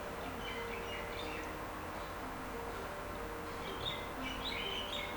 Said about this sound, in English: Birds are chirping like outside.